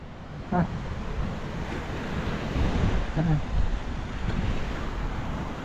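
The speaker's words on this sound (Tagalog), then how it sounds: "Naku po, malakas ang alon." Strong ocean waves surge and wash along a shore at dusk, a steady loud roar with gusting wind buffeting the microphone throughout.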